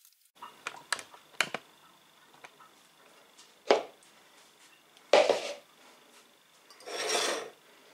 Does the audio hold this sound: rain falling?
no